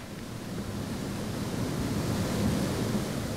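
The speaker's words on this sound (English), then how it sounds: "Alright, how long are they between waves?" Rushing water at river rapids in the video game Shelter, a continuous broadband roar and surge that swells slightly midway, steady and enveloping with no voices.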